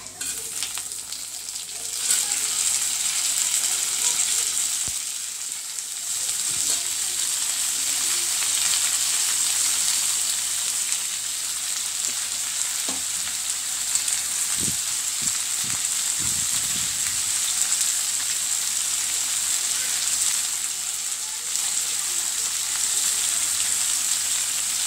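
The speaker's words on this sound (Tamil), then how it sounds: "இது நம்ம நல்லா வதக்குவோம்." Onion, tomato and dried chillies sauté in a pan for idli kara chutney, a steady loud sizzle running throughout with a few soft stirring scrapes near the middle.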